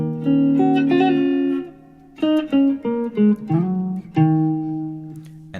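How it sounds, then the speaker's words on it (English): Plucked guitar notes form a short bluesy minor pentatonic phrase, a sustained bend followed by quick separate notes and a final held note, alone and fairly close. "I play a couple of licks in a minor pentatonic scale"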